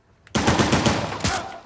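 Machine gun fire in Uncharted: The Lost Legacy bursts in suddenly after a near-silent start, a loud rapid rattle of shots lasting over a second with a second surge near the end.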